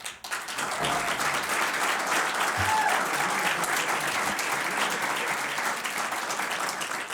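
An audience applauds after a candidate's speech at a Missouri attorney general candidate forum, dense clapping swelling in quickly and holding steady for several seconds, moderately distant in a hall.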